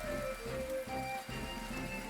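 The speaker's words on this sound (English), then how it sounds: "Day 8, the rain is back." Rain falls in the survival video game Pocket Survival: Island of the Beasts, a steady soft patter layered over a low sustained game ambience with faint tonal hums.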